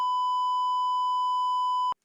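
A steady, loud electronic censor tone held for nearly two seconds before cutting off sharply into silence.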